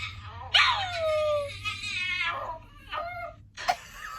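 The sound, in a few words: dog Pippa whimpering and yipping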